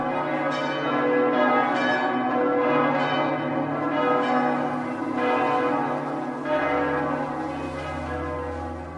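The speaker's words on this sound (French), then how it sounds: "toutes les cloches du temple englouti se mirent à sonner" Temple bells ring continuously and loudly, overlapping tones with repeated strikes layered over a sustained low hum, no voices.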